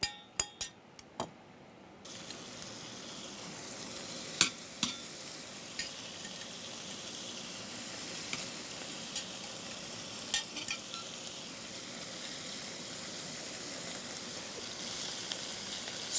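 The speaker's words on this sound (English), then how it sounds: "Let's see if we get a little bit of a sizzle." Shrimp sizzle steadily in a hot frying pan, a continuous close crackle broken by a few sharp clinks and stirring taps of a utensil against the pan, with no talking.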